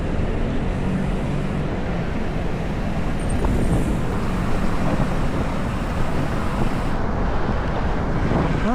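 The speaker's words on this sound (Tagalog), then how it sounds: "Sarap ng hangin." Wind rushing past a microphone during an evening motorcycle ride through traffic toward BGC, a steady loud roar with gusty fluctuations and no speech.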